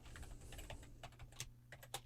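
A password is typed on a computer keyboard in a sequence of quiet, close keystrokes, some tapped in quick runs and some spaced apart, with no voices.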